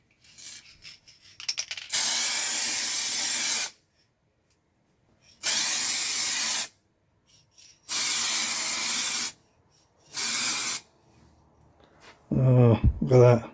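Aerosol spray can laying coating onto a car headlight, heard in four loud close hissing bursts of a second or two each separated by silence, with brief handling noise at the end.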